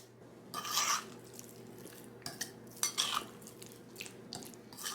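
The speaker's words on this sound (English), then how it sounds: "I'm just going to throw all of these in here and get them coated well into our batter." Fish pieces being tossed and coated in batter in a bowl, giving a few soft wet clinks and scraping stirs of utensil against the dish, moderately close with no talk.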